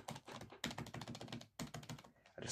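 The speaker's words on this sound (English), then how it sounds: "You will find the keyboard here is rather nice to work with" Brisk typing on the keyboard of a Toshiba Satellite T2130CT laptop gives rapid, close clattering keystrokes in short bursts with brief pauses between them.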